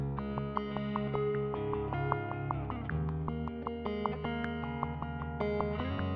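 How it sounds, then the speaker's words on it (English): A Fender Stratocaster runs through effects and plays a steady, sustained pattern of notes with a distorted, chorused and echoing tone, continuous and fairly quiet throughout. "Then I plugged my Strat into Studio One and I tracked it."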